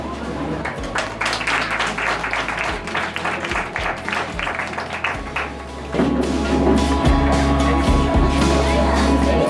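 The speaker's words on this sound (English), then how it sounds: "Please give a big round of applause for the winning team led by Himasha Samadhisika." Applause from an audience at a debate for the winning team, thin scattered clapping under a low hum; midway the background noise swells and the clapping continues in a few sharper claps over a louder room tone.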